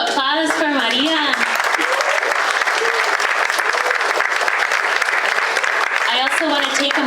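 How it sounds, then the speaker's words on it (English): An audience at a community storytelling event in a historic community center applauds throughout, with a voice speaking over the clapping at the start and end. "Give another round of applause for Maria."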